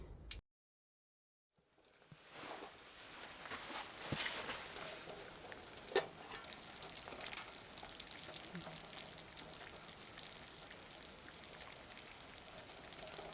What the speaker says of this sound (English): Took a while, but we finally have a boil.